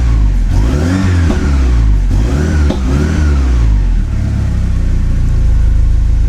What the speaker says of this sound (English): Why not give it a couple of revs?